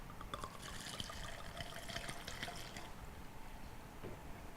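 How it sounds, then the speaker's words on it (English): Everglow liqueur poured over ice into a cocktail shaker, a soft continuous trickle and splash lasting a few seconds, faint and close with no talking. "take 1 part of this Everglow and pour it into the shaker"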